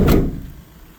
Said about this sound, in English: the door shut nice and clean here as well